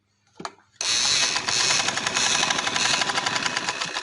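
After a brief knock, an electric sewing machine starts and runs steadily for several seconds, stitching elastic into trouser waistbands with a loud, even, rapid mechanical rattle close by.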